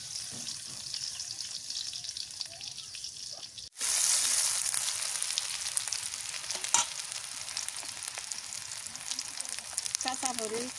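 Chopped onions drop into hot oil and burst into a loud, steady sizzle that carries on to the end, with faint stirring scrapes under it.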